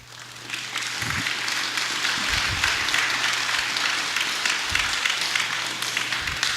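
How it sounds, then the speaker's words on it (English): Steady applause from a congregation filling a church during a home going funeral service, dense and sustained throughout with a faint low hum beneath. "he deserves a round of applause"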